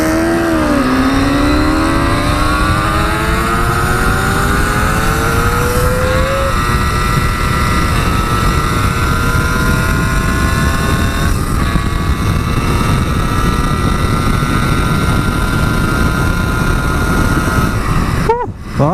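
Allen Millyard's Kawasaki 350 Four two-stroke motorcycle ridden on the road, its engine droning loud and steady from close by with rising and falling pitch through gear changes, wind rush throughout, ending in a sharp burst.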